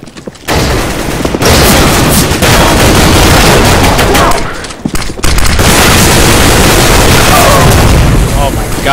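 Grenades and gunfire erupt in a Halo match as dense, loud blasts and bursts fill nearly the whole stretch, with a brief lull midway. Excited voices talk over the din.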